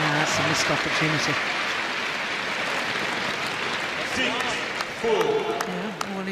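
Crowd applause at the 2017 All England men's singles badminton semi-final between Lee Chong Wei and Chou Tien Chen, sustained clapping from a packed arena with commentators talking over it throughout.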